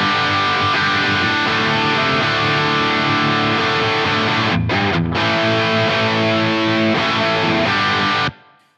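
Heavily distorted electric guitar tone played through a Line 6 Helix modeler with a plate reverb, a continuous loud wall of chords with a short break near the end before cutting off abruptly.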